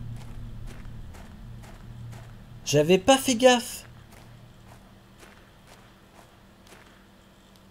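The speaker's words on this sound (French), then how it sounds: "j'entends les bruits de pas" Footsteps in the video game Planet Crafter, a soft steady run of steps through most of the stretch, with a short loud burst of clattering noise in the middle while someone speaks.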